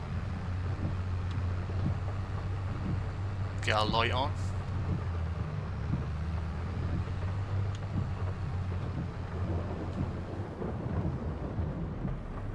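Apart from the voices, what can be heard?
rain and thunder in video game Farming Simulator 22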